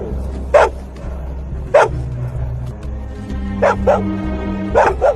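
A dog in a film barks repeatedly in short, sharp bursts, about five barks spread unevenly over a low background rumble, loud and close, with no talking.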